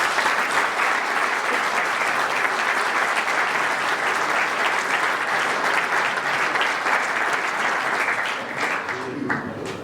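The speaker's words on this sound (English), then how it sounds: "So if we could first just offer a round of applause to Kerry and her team" Sustained round of applause from an audience at a rugby club evening event, dense steady clapping throughout that thins slightly near the end.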